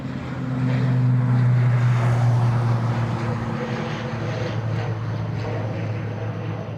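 An ATR turboprop airliner bound for Glasgow takes off from Dublin, its engines a loud steady drone with a strong low tonal hum that holds for several seconds before easing slightly.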